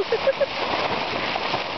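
Heavy rain pelting a camping tent in a storm, a dense close hiss of drops throughout, with a few faint short tones near the start.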